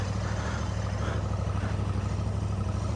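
A Royal Enfield motorcycle engine idles steadily close by, giving a continuous low, even thrum with a faint rhythmic pulse and no talk over it.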